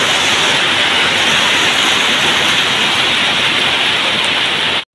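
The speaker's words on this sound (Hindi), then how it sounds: "तेजी दे नाल बरसात" Heavy rain pours down steadily in Malaysia, a loud, dense, unbroken hiss of water on surfaces that holds the same roar for the whole stretch before cutting off abruptly at the end.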